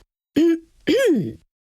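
Two short coughs from a woman, close by, the second a little longer, with a brief silence between them.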